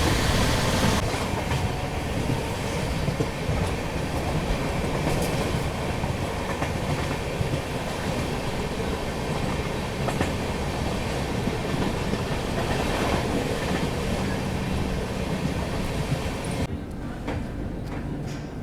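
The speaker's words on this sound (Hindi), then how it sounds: "यहाँ पर हमारी ट्रेन की एंट्री हो रही है लुधियाना जंक्शन पर" New Delhi–Amritsar Shatabdi Express rolling on the rails toward Ludhiana Junction, a steady close rumble with faint clickety-clack that holds loud and unbroken throughout, easing slightly at the very end.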